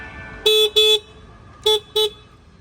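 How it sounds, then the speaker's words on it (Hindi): Horn of an Ola S1 Pro electric scooter honks four times, two quick blasts, a pause, then two more, loud and close with a bright steady tone over quiet background. "Now horn works actually good."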